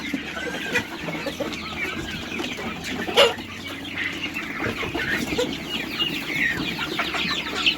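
Chickens cluck steadily close by, with several birds overlapping in a busy coop-like chorus and one sharper squawk partway through.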